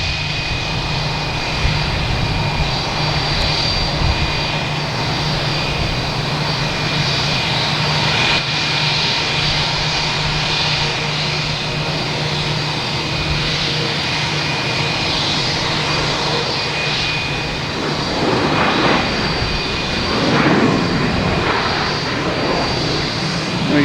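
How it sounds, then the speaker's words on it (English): A United Airlines Boeing 737 MAX 9 arriving from Houston comes in to land at Boston Logan Airport, a loud, sustained jet engine roar with a steady whine that swells near the end. "But first we have United Airlines coming in from Houston. 737 MAX 9,"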